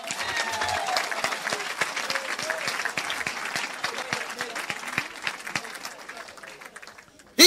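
A church congregation in Côte d'Ivoire applauds, a dense, lively burst of clapping from many hands with voices mixed in, fading slightly before an abrupt loud cut at the end.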